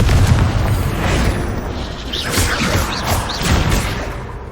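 Spell blasts from Bombarda and Confringo in Hogwarts Legacy on Xbox One: a sustained, loud rumble of repeated explosive booms with whooshing bursts layered on top, rolling continuously without pause.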